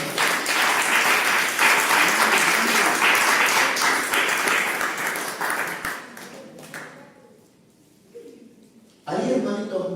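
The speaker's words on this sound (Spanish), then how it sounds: "Dale palmas a Rey, hermano" Congregation in a church clapping loudly and rapidly for several seconds, dying away into near quiet before a voice breaks in at the end.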